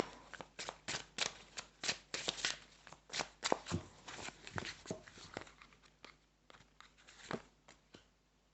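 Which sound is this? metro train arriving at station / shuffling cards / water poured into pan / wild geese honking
shuffling cards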